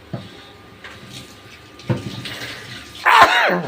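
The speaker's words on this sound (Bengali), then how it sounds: "কাঁচামরিচ গুলো দেবো একটু ধুয়ে নি।" Green chilies being rinsed under running tap water, with faint handling noises building to a louder splashing burst near the end.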